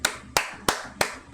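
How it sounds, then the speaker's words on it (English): Five slow, evenly spaced hand claps, crisp and close, from a single person with short pauses between each. "I gotta clap for it"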